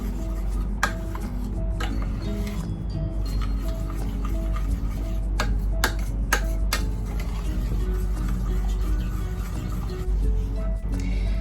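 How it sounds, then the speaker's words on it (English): Peanut butter soup mixture with tomato paste being stirred in a pot for a Ghanaian meal: steady close scraping and rubbing with scattered sharp clicks and taps of the utensil against the pot, continuing throughout. "So I'm still mixing. Gonna mix."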